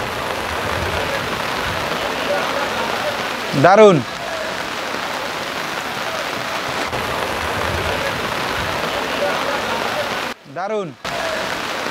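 Steady rain drums on the boats of a floating guava market, a constant close hiss, broken twice by short exclamations from a person speaking.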